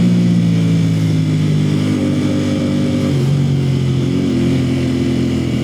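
A motorcycle lane splitting through slow Houston traffic, its mid-pitched engine droning loud and close with shifting revs as it weaves between lanes.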